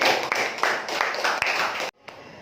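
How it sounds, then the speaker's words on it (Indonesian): A class of children claps together, a dense, loud patter of hands that stops abruptly, leaving a near-silent pause before faint room noise returns. "Beri tepuk tangan untuk kita semuanya."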